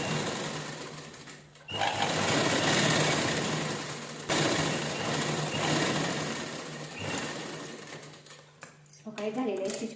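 A sewing machine runs in fast whirring bursts while stitching a blouse sleeve, pausing and restarting several times, close by, with someone speaking over it.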